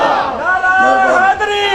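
A crowd at a Sunni religious gathering shouting a chanted slogan response in unison, a short loud collective cry of many voices.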